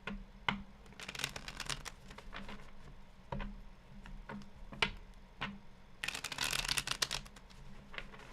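A deck of tarot cards is shuffled close up in soft, rapid riffles and flutters, with taps and a louder burst of card noise near the end and no talking.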